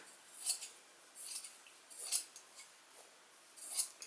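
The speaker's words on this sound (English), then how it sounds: "I will cut small piece of light fabric" Scissors snipping a small piece of light fabric, four soft separate cuts spaced roughly a second and a half apart, faint and close, with no voices.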